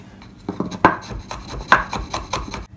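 A large garlic clove is sliced thinly with a knife for pizza sauce, giving a quick, uneven run of crisp, close knife chops against a board, with a few sharper strikes standing out.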